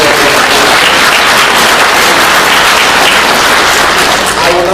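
Loud, sustained applause from a crowd at a town hall in Franklin, North Carolina, steady and close for several seconds, with voices faintly mixed into the clapping.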